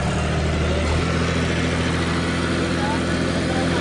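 A power-upgraded John Deere 5310 tractor engine runs with a loud, continuous, close diesel drone that barely varies in level, with a deep low rumble underneath.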